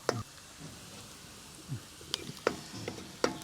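Onions sautéing in a pan during village vegetable curry cooking, a soft low sizzle under scattered sharp clinks and scrapes of stirring that come in irregular bursts.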